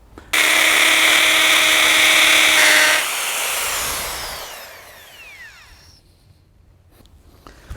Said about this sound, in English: So I just drilled the holes.